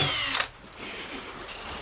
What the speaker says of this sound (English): First 4 holes drilled.